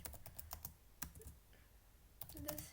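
Quick clusters of computer keyboard keystrokes from someone entering Python code, faint and close, in short rhythmic bursts with a pause in the middle.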